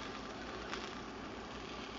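Ground turkey taco mixture sizzles in a hot pan, a steady broadband hiss and crackle that stays constant and fairly loud throughout, with no voices.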